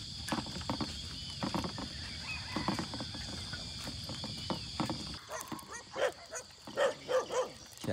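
A dog barks in the countryside beside an irrigation reservoir: a handful of rhythmic barks toward the end, moderately distant, over a constant outdoor hum of insects and rustling.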